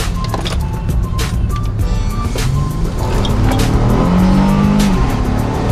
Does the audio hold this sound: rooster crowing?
no